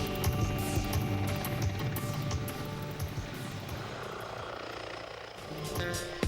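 An attack helicopter flies nearby, its rotor thudding in a steady, loud pulse with a whining engine over it.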